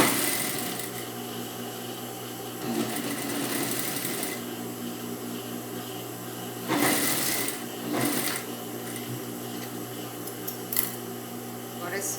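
A sewing machine hums steadily while stitching a dress seam, close and continuous with brief pauses and faint handling noises, and a voice is faintly present in the background.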